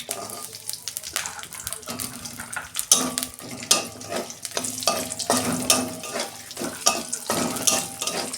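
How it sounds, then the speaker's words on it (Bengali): Potato pieces fry in hot oil in a wok, a steady close crackling sizzle broken by frequent clattering stirs and scrapes of a utensil against the pan. "ওই কড়াতেই আমি তেল দিচ্ছি। আলুটা 2 মিনিট ভেজে নেব।"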